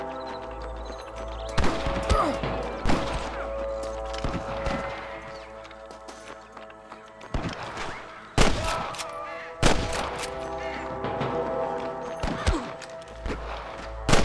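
Sniper gunfire in the Red Dead Redemption video game, several loud cracking shots, some in quick pairs, over a constant hum of game ambience and music.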